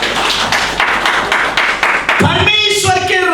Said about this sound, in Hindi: ताली बजाकर परमेश्वर को धन्यवाद।